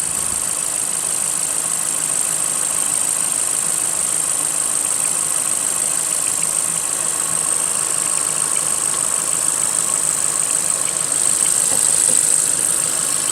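A 2021 Ford Transit Connect engine idles with a steady, loud, even drone and a faint high whine, holding constant with no voices.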